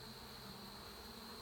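Honeybees hum steadily at an open hive during an inspection, a continuous, even, faint buzz with no pauses and no voices.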